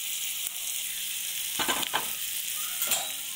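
Hot tempering of turmeric, asafoetida, dried red chillies and curry leaves in oil, poured into green sorrel (chukkakura) chutney, giving a steady close sizzle with a few brief louder crackling bursts.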